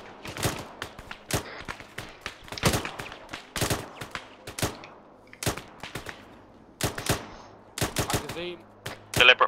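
Gunfire in the military shooter game Arma during the Operation Black Anvil mission: sharp, loud single shots and short rapid bursts in an irregular rhythm, some close and some more distant, with a few gaps of quiet between volleys.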